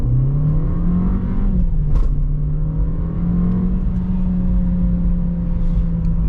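A 2025 Volkswagen Jetta accelerates hard in sport mode, its engine droning loudly from inside the cabin with a steady rising and levelling tone plus road noise, one brief shift dip near two seconds.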